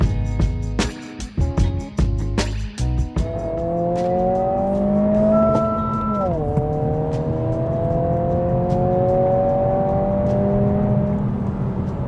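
A 2025 Honda Civic Si engine revs loudly after a few sharp clunks, then holds a steady, rising drone with gear-change dips, heard close and continuous without talk.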